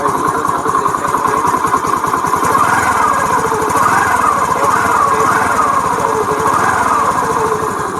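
Honda Activa 110cc scooter, eight years old with 20,000 km, idling with its silencer close by: a steady, even, buzzing putter that holds constant throughout with no talk.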